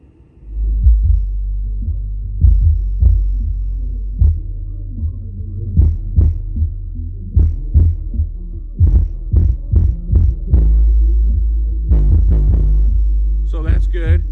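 Heavy bass thumps from a car audio system with an amplifier turned up, deep regular pulses of a song beating loudly and steadily, with a brief voice near the end.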